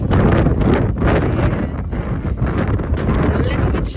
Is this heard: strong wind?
yes